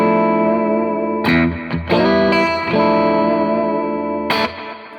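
Dark, sustained electric guitar chords through an analog delay pedal ring out with soft repeating echoes trailing behind each strum, played close and fairly loud with no voices.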